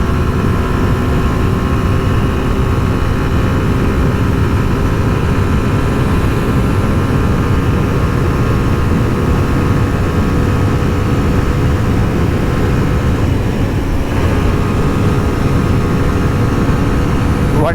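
A Suzuki Gixxer SF 150 motorcycle engine drones loudly and steadily at high speed in fifth gear, with heavy wind rush throughout.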